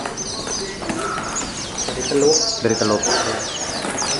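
Hundreds of smuggled caged birds chirping, tweeting and cooing together in a dense, busy chorus, mixed with voices talking nearby.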